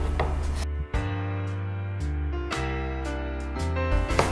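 A knife slices an apple into thin strips for a salmon dish, producing a few crisp, spaced chops against a cutting board over steady background music.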